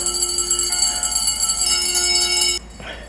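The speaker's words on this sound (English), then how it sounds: "4 bells are going off." Bells ring from the 2009 Disney film A Christmas Carol, a steady sustained tone lasting a few seconds and then cutting off abruptly, leaving a quieter tail.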